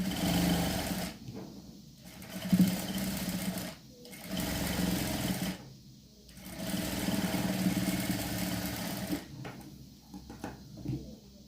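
A sewing machine stitching a blouse runs in three long bursts of rapid mechanical whirring, separated by short pauses, close and fairly loud.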